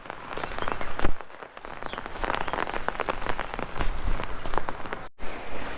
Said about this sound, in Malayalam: മഴ നല്ല തകർത്ത് പെയ്തുകൊണ്ടിരിക്കുക.